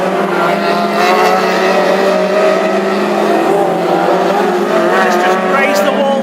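Hot rod race cars, among them a Chevrolet and a little Austin A30, battle in a final at Birmingham, their engines a loud, unbroken roar of rising and falling revs while a commentator talks throughout.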